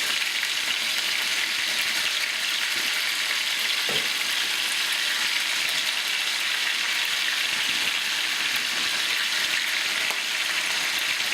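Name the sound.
peppers and onions frying in pan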